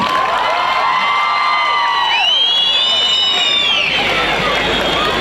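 A large crowd at a concert event in Ayazini cheers loudly, with rising and falling shouts and whistles over a continuous wash of crowd noise and clapping.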